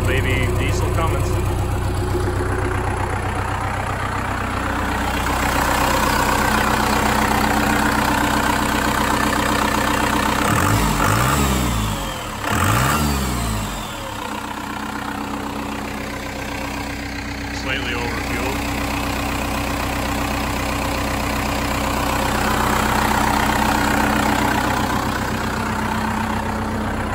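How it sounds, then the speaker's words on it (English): A small Cummins diesel engine in a Ford Bronco Eddie Bauer idles with a steady low rumble, rising briefly in a couple of quick revs midway, while someone talks over it. "little baby diesel Cummins."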